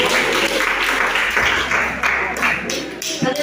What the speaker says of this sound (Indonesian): Oke, tepuk tangan untuk dia.